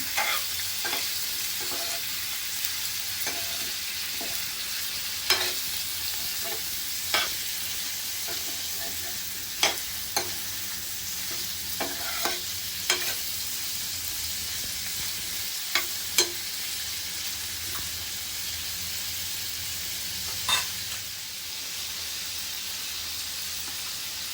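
Ginger sautés in a pan with a constant close sizzle and hiss, punctuated by occasional sharp clicks and scrapes from stirring.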